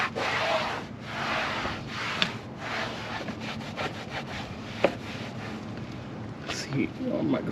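A microfiber towel wipes dirt in a car engine bay, making a rough, repeated rubbing and scrubbing sound that stays close and steady, with a few sharper knocks.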